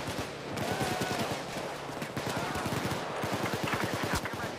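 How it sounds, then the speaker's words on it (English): Rapid bursts of automatic gunfire from the heist shooter Payday 2, a dense, near, continuous stream of shots filling the whole stretch without pause. "You might have to give me some covering fire."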